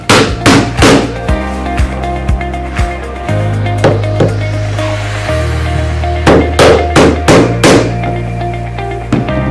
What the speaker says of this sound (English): You use a hammer and a block to put these 2 pieces together from sideways.